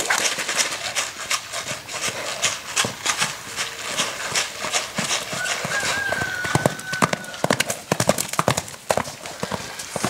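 Rapid, rhythmic hoofbeats of a pregnant Lusitano mare clatter throughout with a faint voice in the background and a brief high tone midway.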